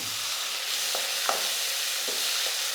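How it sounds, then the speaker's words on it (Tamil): Onion, curry leaves and chopped tomatoes sautéing in a pan: a steady hiss of frying with several distinct scraping strokes of a spatula at irregular intervals, no voices. "இதுவும் கொஞ்சம் நேரம் நல்லா வதங்கட்டும்"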